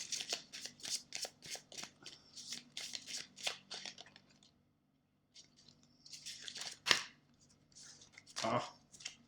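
Oracle cards being shuffled close by, a rapid series of soft riffling flicks, then a pause and a few more irregular shuffles and card slaps; no talking over them.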